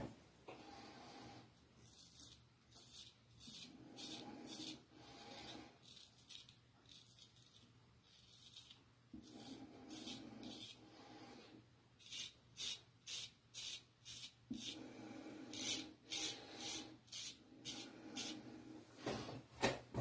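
A small hair shaper razor scrapes across stubble during a first shaving pass, giving repeated short, close rasping strokes in rhythmic bursts with brief pauses between them.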